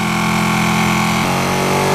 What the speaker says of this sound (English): That engine note sounds fantastic.